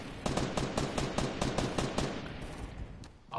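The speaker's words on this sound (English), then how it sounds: "There's gunfire about." Rapid bursts of automatic gunfire in Fortnite crackle in quick succession, loud and close, with a brief pause before another burst at the end.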